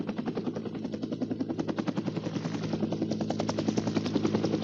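A helicopter flying over the Venezuelan jungle toward Cerro Autana, its rotor thudding in a steady rapid pulse that grows slightly louder over a few seconds, fairly faint and distant with no voices.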